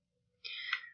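A single quick mouse click while working in Excel on a computer, a short bright tick in an otherwise silent room.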